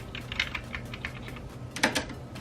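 Fingers type steadily on a Ducky One 2 Mini 60% RGB mechanical keyboard, giving a fast run of crisp clacking keystrokes with a slightly louder cluster near the end, close and alone.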